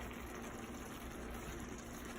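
Water poured into a pan of dried chepa shutki fish cooking with kochur loti stems, a steady continuous gushing pour filling the whole moment without pause.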